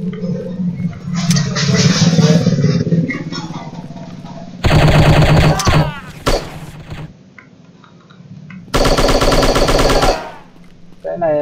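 Sustained automatic gunfire from the shooting game Striker rattles in two loud, dense bursts separated by quieter stretches, with game sounds and some talk over the action.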